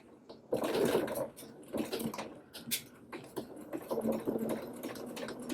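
A sewing machine stitching a doll dress seam runs in short bursts, a close, rapid mechanical whirr that stops and restarts several times, backstitching to lock the seam, with no voices.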